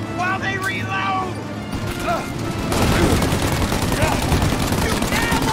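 Dense, continuous gunfire from a shootout in Mafia: Definitive Edition erupts midway and keeps up a steady, loud rattle to the end, following a stretch of shouted talk and voices that continue under the barrage.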